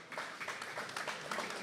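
A live crowd applauds and cheers continuously at a grappling match, a dense wash of clapping at steady moderate loudness, with no voices standing out.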